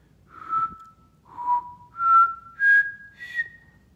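A person whistles five sustained notes close to the ear, changing pitch by moving the tongue, dipping slightly then climbing higher with each tone, clean and alone against a quiet background.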